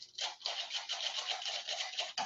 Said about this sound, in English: is re-sift that a little bit just to mix everything together. So we're going to take that back into our sifter.